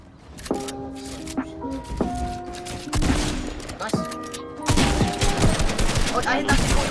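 Gunfire in the video game Fortnite sounds as a rapid burst of sharp shots in clusters of loud cracks and echoing reports, layered over game effects, with a voice faintly underneath.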